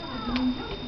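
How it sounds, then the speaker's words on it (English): A cat, cuddling with a goat, gives one short, mid-loud meow of under a second, with a person's voice nearby. "Delbert, is that your kitty cat?"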